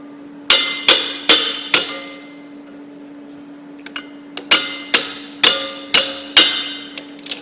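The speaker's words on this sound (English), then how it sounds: "I'll use my vice grip hammer there." A vice grip used as a hammer on metal while setting up for mag-drill line boring: four sharp, ringing strikes in quick succession, a short pause with a couple of light taps, then five more close, loud blows.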